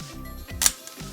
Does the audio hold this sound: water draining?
no